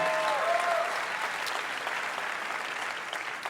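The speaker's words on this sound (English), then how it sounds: "Give Tim a big round of applause" A studio audience at a live comedy and music radio show applauds for Tim in a steady, dense wash of clapping that fades slightly toward the end, with no talking over it.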